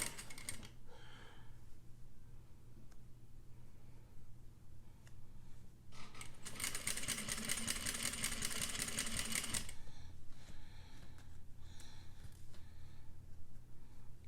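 A sewing machine stitches a bias-bound seam finish in one sustained burst of rapid, rattling stitching lasting a few seconds. Quiet fabric handling and soft clicks come before and after it.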